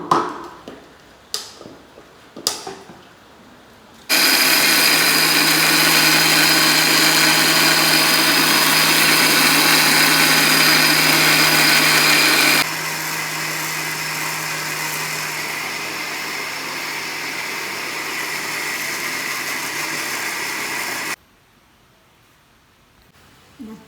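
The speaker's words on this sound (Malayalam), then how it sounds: "അപ്പം ഇത് നമുക്ക് മിക്സിയിൽ കറക്കി എടുക്കാം" A kitchen mixer grinder grinds soaked rice: a few handling clicks, then a loud, steady motor whine that drops to a lower tone midway and runs on before cutting off abruptly.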